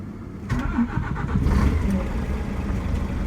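A Scania R420 truck diesel engine with 515,000 km cranks and catches at about half a second, then settles into a steady, loud low rumble that runs to the end.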